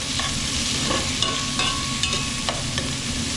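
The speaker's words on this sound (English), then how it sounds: "we're going to saute it for about 2 minutes" Chicken pieces sauté in a hot pan, with a steady loud sizzle broken by scraping stirs and a few sharp clicks of the utensil against the pan.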